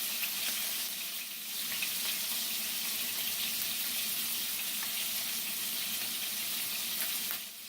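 Scallops and lobster tail sear in a hot pan, making a loud, steady, close sizzle with a constant crackling hiss and no pauses.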